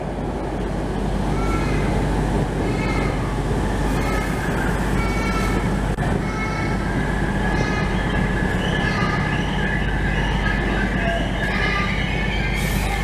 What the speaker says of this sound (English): Another Merseyrail train from Birkenhead arrives here.